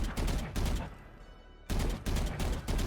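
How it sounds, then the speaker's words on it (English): Rapid bursts of gunfire in the tactical shooter Valorant, fired right after letting go of the movement key: close, loud, crisp shots in two quick clusters separated by a brief lull. "If you just let go of the key and you want to shoot, let's say 6 bullets very fast, it's gonna look like this"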